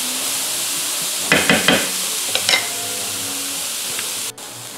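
Onions and vegetables sizzle in a pan for dirty rice, a constant close hiss with a few scraping stirs in the middle before the sound suddenly drops near the end.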